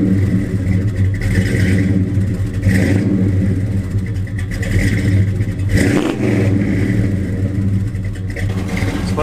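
A Chevrolet Chevelle fitted with a Flowmaster stainless exhaust idles and revs nearby, its loud, deep V8 burble rising and falling in repeated throttle blips, with no talking.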